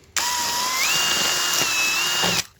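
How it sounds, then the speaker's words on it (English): A loud, continuous whine of a power mixer paddle mixing concrete runs for a couple of seconds, its pitch rising once partway through before cutting off. "I'm going to get in there with the mixer now and give it a real good thrashing"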